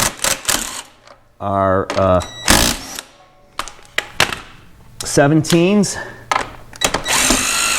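A wrench works loose the bolts on a KDX200 dirt bike's lowering link, giving sharp metallic clicks and ratcheting bursts between stretches of someone talking close by.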